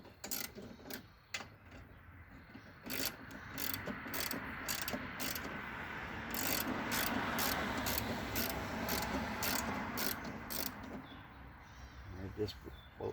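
A ratchet loosens the blade bolt on a Honda HRX 217 lawn mower, giving rapid rhythmic clicking strokes in a long run, close and quiet, with some mechanical rubbing beneath.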